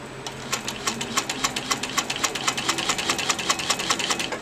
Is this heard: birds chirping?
no